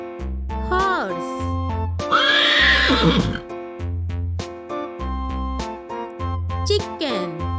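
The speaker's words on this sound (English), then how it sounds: "horse" A horse neighs and whinnies loudly and up close, with a long shrill whinny in the middle, set over a bouncy children's music track with a repeating beat.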